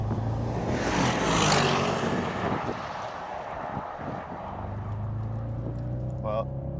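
A Bentley New GT prototype accelerates hard, its engine rising to a loud, swelling roar with wind rush, then easing back to a lower, steady drone as the car cruises on.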